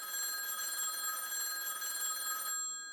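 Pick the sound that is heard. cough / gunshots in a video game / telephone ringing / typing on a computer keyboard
telephone ringing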